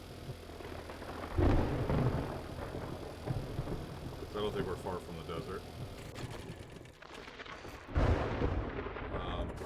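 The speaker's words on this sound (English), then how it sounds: "still boogie on out of here, even with the storm." A thunderstorm rolls through a survival video game, with heavy rumbling thunder bursts near the start and end over steady rain-like noise, while someone talks throughout.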